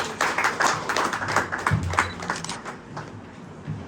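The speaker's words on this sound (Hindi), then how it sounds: "तो एक बार तालियां बजा दीजिए।" A small open-mic poetry audience in Ahmedabad claps for the host; a scattered handful of individual claps, loudest at first and thinning out toward the end, with no voices over them.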